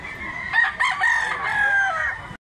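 A young stag rooster crows one long, drawn-out call lasting about two seconds, loud and fairly close, with no talking.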